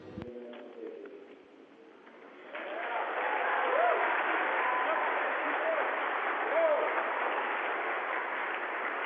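Students in New Jersey applaud during a live downlink with the Expedition 30 crew aboard the International Space Station, a steady wash of clapping that swells in after a short spoken opening and holds for several seconds.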